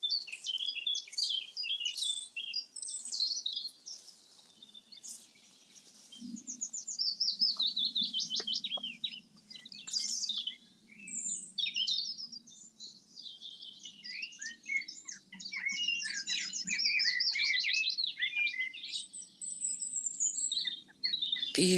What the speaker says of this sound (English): Got a blackbird singing to us.